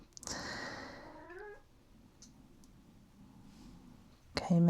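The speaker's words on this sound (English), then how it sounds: "He's a very talkative cat, Oliver." A talkative male house cat gives a drawn-out meow close by, then the room goes quiet with low background noise before a sudden louder sound at the end.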